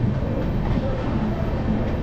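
Varanasi-bound MEMU passenger train from Asansol running with a steady, loud low rumble and rolling rail noise that holds evenly throughout, with no distinct clicks standing out.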